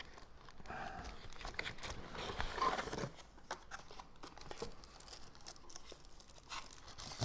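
Close, busy tearing, crinkling and crunching of packaging as a Fujifilm X-H2 camera is pulled from its box, continuing in bursts with varying intensity throughout.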